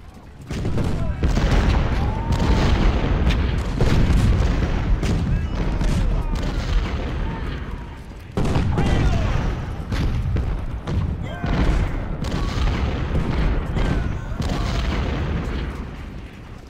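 Artillery cannons fire in a Civil War strategy battle game, a near-continuous rumbling barrage of booms and thuds with a short lull midway, and someone speaks German under it.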